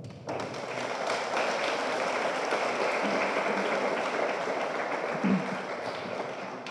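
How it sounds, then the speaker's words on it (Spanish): Steady applause from a crowd fills the room, dense and sustained from start to finish with no pauses. "Les pido un fuerte aplauso"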